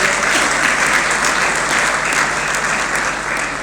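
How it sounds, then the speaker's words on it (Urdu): An audience at a women's entrepreneurship awards ceremony applauds steadily and loudly, a dense, continuous wash of clapping from many hands that fills the whole stretch. "ساری باجیوں کے لیے ایک بھرپور تالیوں کا راؤنڈ آف اپلاز ہونا چاہیے۔"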